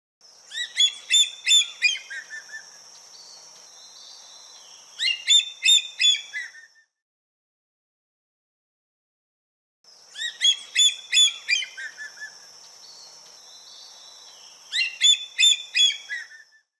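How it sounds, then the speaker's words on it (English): A hawk calling, heard as two bursts of sharp, high chirping notes that repeat after a short silence, clear and close with no voices. "Hawk."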